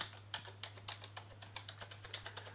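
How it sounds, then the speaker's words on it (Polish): Rapid clicky keystrokes typed on a Delux T15S gaming keyboard, an irregular stream of light taps over a steady low hum, fairly quiet and close. "Same klawisze posłuchajcie jak pracują."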